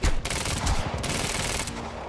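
SMG fired in the Quantum Break video game: a dense, continuous burst of rapid automatic gunfire, loud and close, running for about two seconds.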